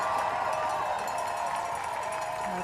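A marathon crowd lines the course around Cutty Sark, a steady distant roar of cheering beneath broadcast commentary.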